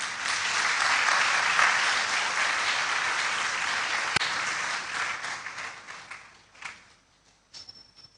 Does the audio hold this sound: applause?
yes